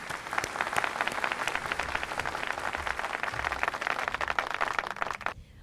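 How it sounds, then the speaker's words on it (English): Steady applause from an audience at a summit inauguration, dense clapping throughout that stops abruptly near the end. "A round of applause, please."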